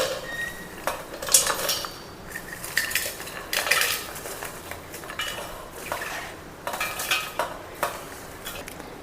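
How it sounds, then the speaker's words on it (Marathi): Whole dry-roasted masala spices being tipped into a mixer grinder jar: a series of close, bright metallic clinks and scraping taps of a spoon against the jar, coming in irregular bursts with quiet gaps. "टाकूया मिक्सर जार मध्ये।"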